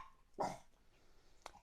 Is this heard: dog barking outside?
yes